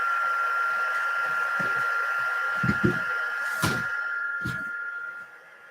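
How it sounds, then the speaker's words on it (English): An embossing heat gun blows steadily with a hum while it warms up before melting powder on acetate, with a few soft knocks and thumps over it before it quietens at the end. "I'm going to do is turn it on 2 just to heat up the gun for a few minutes"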